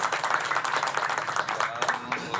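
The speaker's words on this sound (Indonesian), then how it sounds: "Ini tepuk tangan buat Kades Kao." Applause from a crowd at a house handover ceremony in Kao village, Indonesia, dense steady clapping throughout with a murmur of voices underneath.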